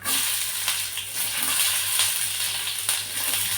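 Onions hit hot oil already holding chana dal and cumin for a Telugu tempering, giving a steady loud sizzle and crackle with faint stirring scrapes, no voices.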